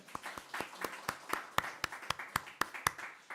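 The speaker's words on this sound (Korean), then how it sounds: "박수를 크게 한번 하겠습니다" Steady rhythmic clapping from a church congregation, about a dozen crisp claps at an even tempo, like a group clapping together in unison.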